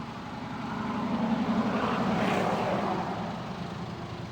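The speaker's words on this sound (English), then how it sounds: "you can see the motor there in the background running" A Kaylor China electric motor running on a 48v controller at low throttle, a steady droning hum with a broad whirring noise that swells slightly mid-clip and holds constant throughout.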